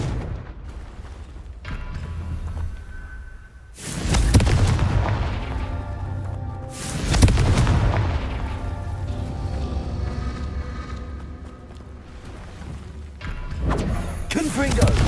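Repeated Confringo blasting-spell explosions from the Hogwarts Legacy video game, three or four heavy booming bursts spaced a few seconds apart over a steady game rumble, with speech mixed in.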